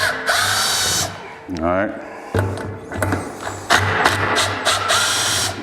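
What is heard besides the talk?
impact driver removing screws on Polaris RZR clutch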